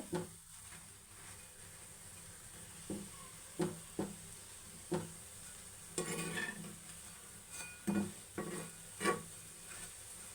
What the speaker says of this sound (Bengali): তো এইভাবেই আমি এক এক করে সবগুলো ভেজে নেব।